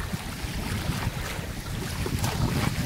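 Steady, blustery wind buffets the microphone outdoors at the seaside, a broad rushing roar that rises slightly toward the end, with no voices.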